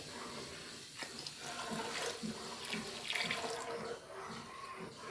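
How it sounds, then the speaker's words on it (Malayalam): Third-extract coconut milk pours into a pot of chana dal payasam simmering in jaggery syrup, a soft, continuous splashing trickle heard close and fairly quiet, with no voices. "ഇനി ഇതിലേക്ക് ഞാൻ കുറച്ച് മൂന്നാം പാൽ ഒഴിച്ച് കൊടുക്കണ്ടേ"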